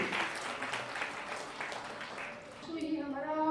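Applause from an audience at an Ayurveda doctors' convocation ceremony in a hotel hall, a steady wash of clapping that fades toward the end as a voice speaks.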